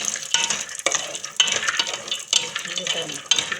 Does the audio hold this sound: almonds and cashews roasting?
yes